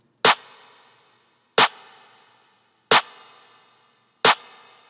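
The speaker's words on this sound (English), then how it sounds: "The next sound I have here is my snare or my clap." Four evenly spaced snare or clap sample hits, each a sharp, bright crack with a short decaying tail, play alone, loud and close, with silence between them.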